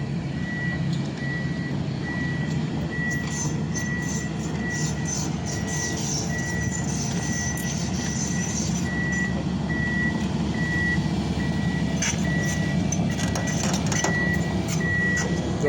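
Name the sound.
earthmoving truck reversing beeps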